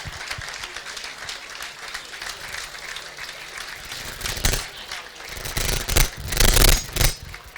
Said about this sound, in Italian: Un applauso per i nostri arbitri promossi in Serie C.